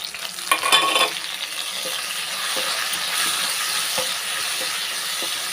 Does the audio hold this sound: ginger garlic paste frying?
yes